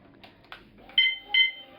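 A motorcycle alarm on a Motobi Pesaro 200 Evo gives short electronic beeps as the ignition is switched on: a few faint clicks, then two brighter, louder tones about a third of a second apart.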